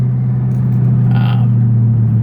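A 2006 Ford Mustang GT with Ford Racing hot rod cams and BBK long-tube exhaust idles close by, a loud, deep, lopey rumble holding steady throughout.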